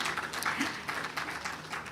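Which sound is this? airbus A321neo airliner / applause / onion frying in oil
applause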